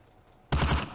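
A burst of video-game gunfire from the World War II shooter Firefight erupts after a quiet half-second, a loud, rapid volley of several shots in an Eastern Front battle at Kulikova Ridge.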